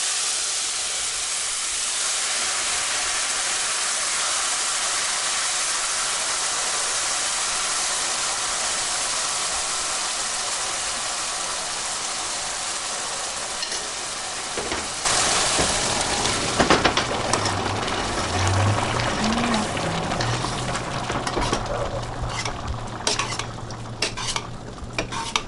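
Cooked beans poured into a hot pan begin sizzling and frying, with a loud stirring and scraping rush partway through as the pan fills, then an uneven crackle and the clatter of a utensil against the pan.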